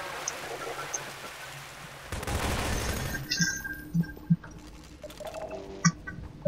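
SMG gunfire in Half-Life 2 crackles in a rapid burst, followed by several sharp, isolated shots spaced apart, moderately loud within game ambience.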